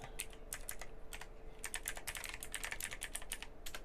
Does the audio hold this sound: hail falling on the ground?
no